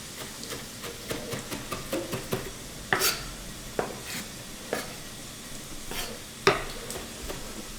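Ingredients for a swordfish sauce stirred around a hot sizzling pan, with a steady frying crackle under repeated scraping strokes and a few sharper knocks of the utensil against the pan, fairly close, with no talking.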